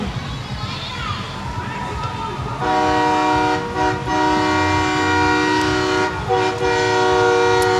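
Loud, sustained vehicle horns blare together outdoors over a noisy crowd at the Grey Cup and Santa Claus Parade in Winnipeg, holding long steady tones with brief breaks, along with music and voices.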